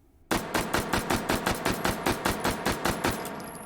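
An H&K MP5K fires a rapid burst in the shooting game H3VR, about fifteen sharp, evenly spaced gunshots in quick succession, loud and close.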